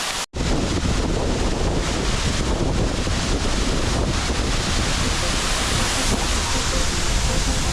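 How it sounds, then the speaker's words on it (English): Roaring water at the tallest waterfall in Bohol, about 79 to 80 meters high, makes a loud, steady broadband rush that stays constant throughout without a break. "The tallest waterfall in Bohol."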